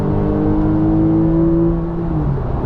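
A 2015 Porsche 911 GTS engine revs loud and close, a steady deep growl that holds high for a couple of seconds before the pitch drops away, with no voices over it.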